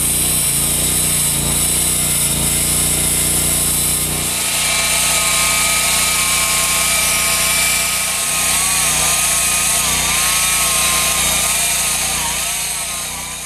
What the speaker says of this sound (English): let you finish sawing this